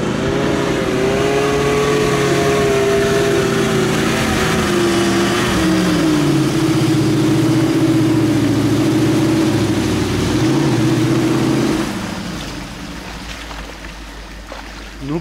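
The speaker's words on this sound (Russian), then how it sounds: "я думаю, сейчас проедет шишига" A GAZ-66 Shishiga truck in low second gear roars loudly at full throttle as it drives through, its engine strained and steady for several seconds before the sound eases and drops off abruptly.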